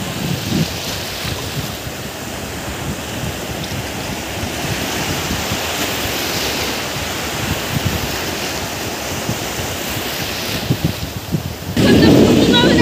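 Steady roar of sea waves washing in at a quiet beach, continuous broadband rush with wind, swelling louder in the final second; faint voices may blend in underneath.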